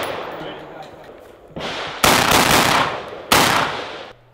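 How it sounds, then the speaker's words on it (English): An IWI Tavor rifle fired outdoors at a range, a few loud sharp shots with rapid follow-up bursts and echoing decay, heard close. "the IWI Tavor was definitely the most popular. Everybody really enjoyed shooting it"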